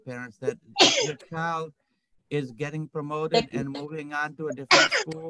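A person sneezes during a school meeting about 5th grade promotion, a short sharp burst set among steady talking by a speaker.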